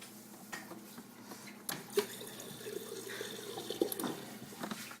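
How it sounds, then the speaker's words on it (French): Water pouring into a bottle in a home kitchen while cooking, a steady trickling splash with a few faint clinks, fairly quiet and close. "Ensuite, verse le eau dans le bouteille."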